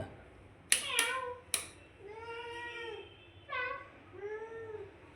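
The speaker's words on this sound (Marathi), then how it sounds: "मांजर आले दुसरं. घरात कोणतरी आले मांजर." After a few sharp knocks, a cat meows three times in drawn-out, nearby calls.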